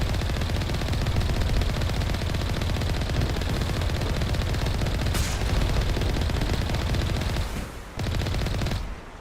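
Rapid burst-fire gunshots from pistols in the video game Mass Effect Legendary Edition, a dense, loud, continuous volley with no pauses until a brief dip near the end, no voices present.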